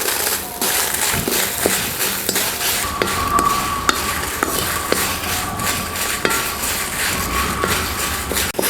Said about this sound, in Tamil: இந்த உப்பு கூடவே நம்ம எடுத்து வச்சுக்க வரமிளகாயும் வறுத்துக்கலாம்.